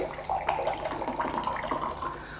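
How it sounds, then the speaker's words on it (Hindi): Kangen water is poured into two glasses, a steady close stream of running, splashing liquid with uneven gurgling pulses, no talk. "और यहाँ हम 2 ग्लासेस में ले रहे हैं कैंगन वाटर।"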